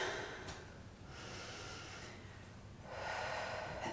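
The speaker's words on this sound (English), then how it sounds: "Let's take one more breath in." Slow, deep breathing during a held yoga pose in a slow-flow vinyasa practice: a long, airy inhale and exhale at close range, rising again toward the end, with no talking.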